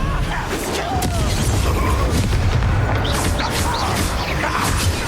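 A Confringo fire spell from Hogwarts Legacy bursts in a dense, rumbling explosion with crackling pops layered over continuous game battle noise.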